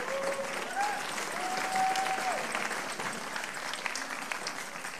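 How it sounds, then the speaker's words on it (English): Sustained audience applause at a fair-tax policy event on stage, dense steady clapping from a crowd filling the whole stretch, with a faint tone or voice drifting underneath. "an applause for these people"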